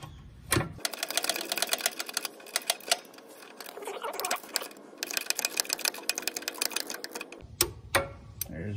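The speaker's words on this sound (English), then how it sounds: "And I get my torque wrench on there." Torque wrench tightening the oil filter on a Kubota zero turn mower, a rapid run of close ratcheting clicks in bursts with short pauses, no talking.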